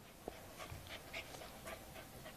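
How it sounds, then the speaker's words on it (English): A guard dog, apparently with a Bedouin, pants in quick rhythmic breaths close by, with faint whimpers mixed in over a quiet background. "He's a real guard dog."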